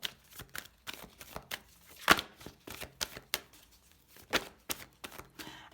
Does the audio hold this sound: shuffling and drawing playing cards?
yes